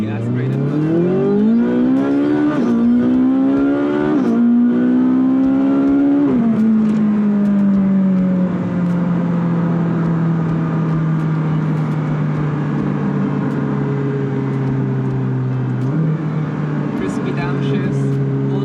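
A Ferrari 458 Speciale's naturally aspirated engine on the stock exhaust, loud and close, pulling hard through rising gears with sharp shifts, then settling into a steady cruising drone that slowly eases off.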